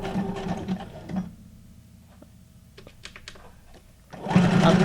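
A brother's SQ9185 sewing machine, dubbed the Whippersnapper, whirs loud and close in two bursts at the start and end with a quiet stretch of faint clicks between.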